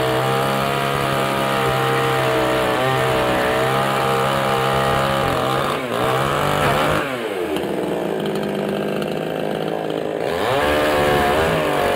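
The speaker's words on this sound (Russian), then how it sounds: "Мне надо было обрезать опалубку, пока Серега сходил за..." Power saw cutting through formwork together with aerated concrete blocks at a stair-building site, a loud continuous engine whine that holds steady, dips briefly mid-cut, then rises again.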